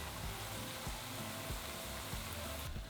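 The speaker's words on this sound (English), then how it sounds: "Fry for 3 to 4 minutes, turning once, until the bhajis are a dark golden brown." Onion bhajis frying in a pan of oil give a loud, dense crackling sizzle, steady and close, with faint soft bumps beneath.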